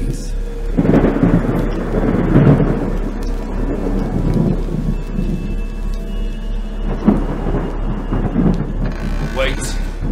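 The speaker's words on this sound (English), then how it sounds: "save me from this hellish downpour" Heavy rain pours steadily while thunder rumbles loudly, with a low continuous roar throughout.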